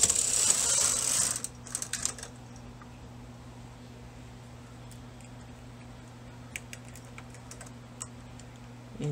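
A knitting machine carriage passes across a row of bulky yarn with a brief loud rasping swish, then fades to soft ticking clicks of needles and mechanism over a low steady hum.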